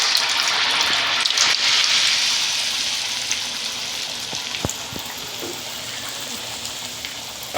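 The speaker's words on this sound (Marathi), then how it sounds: "बघा तेल गरम झाले, आता वडा सोडते मी." Chicken vada slid into hot oil, giving a steady broadband sizzle and crackle that holds for several seconds and slowly eases, with a few sharp pops along the way.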